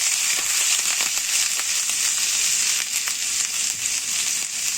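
Garlic and ginger frying in a hot pan give a loud, steady sizzle with scattered sharp crackles and pops throughout, heard close and alone.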